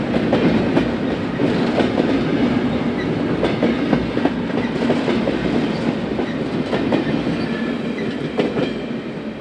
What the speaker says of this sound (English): today's E149 being led by the former CREX 1327 and 1432